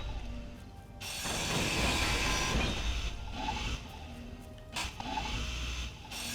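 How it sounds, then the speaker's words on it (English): Mechanical grinding in the Space Engineers video game as a landing gear is ground down: a harsh, steady grinding roar that swells, then eases into quieter whirring with clicks, loud and close. "let's quickly grind this down a little bit here"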